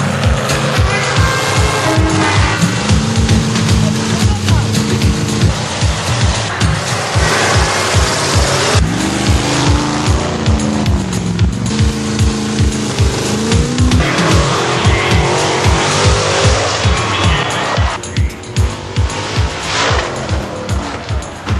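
Monster trucks roar through a crowded arena event, engines loud and constant with repeated revving bursts and tire squeals, alongside crowd noise and music-like tones throughout.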